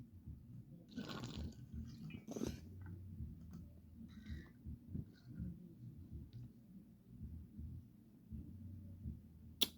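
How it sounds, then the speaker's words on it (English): A person drinks water in quiet, close-up swallows and soft gulps, low and muffled, scattered over several seconds with faint clicks and no talking. "Me drinking water."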